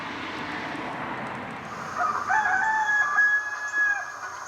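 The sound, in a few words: recording of roosters crowing at midday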